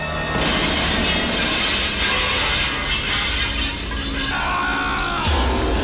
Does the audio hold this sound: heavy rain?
no